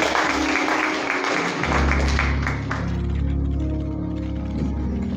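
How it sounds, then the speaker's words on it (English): A church congregation at an induction service claps to welcome the preacher, a dense, loud burst of hand clapping that gives way to sustained organ-like tones underneath. "Let us clap our hands as we receive our preacher for tonight."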